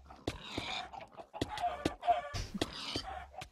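Minecraft chickens cluck and squawk repeatedly in quick overlapping bursts, fairly close, with scattered sharp thumps between them.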